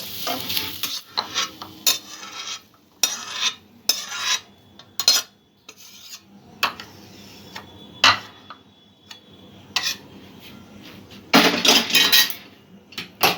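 A pan holding cooked egg filling for egg pakora is lifted off the stove, with loud, irregular metallic clanks, scrapes and utensil knocks between quieter gaps, plus a light sizzle.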